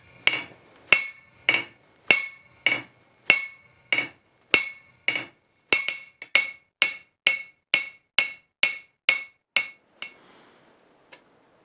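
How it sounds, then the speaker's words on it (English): About twenty sharp metallic hammer blows on a steel belt grinder bracket ring out in a steady rhythm, each with a bright clang, ending with a last faint tap. "So I will do this by hammering it, and that will stretch the material here"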